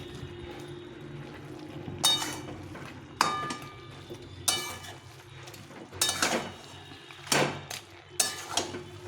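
Fish head and cabbage curry being stirred in a pan, with a few distinct scraping clanks of a metal spatula against the pan spaced a second or two apart over a quiet sizzle.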